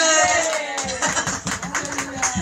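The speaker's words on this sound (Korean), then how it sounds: "박수까지 주세요" A Korean church congregation claps along during a revival sermon, a run of fairly regular, crisp hand claps blending into crowd noise, with talk mixed in beneath.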